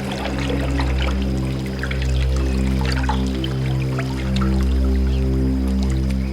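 Water trickles and drips in a steady, close stream with faint wet squishing, set over a constant low hum, as someone pours water to drink.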